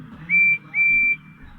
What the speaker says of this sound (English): that was a whistle. Percy's whistle